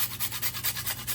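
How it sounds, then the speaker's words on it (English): Whole nutmeg rasped against a hand grater while cooking bulgur porridge, giving a quick run of about eight even scraping strokes, close and fairly soft, over a low steady background hum. "I'm grating my nutmeg right now"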